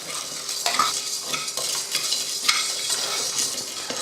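Rice, urad dal and chana dal dry-roasting in a pan, stirred with a spoon that scrapes and rattles the grains in a steady rhythm, close and clear.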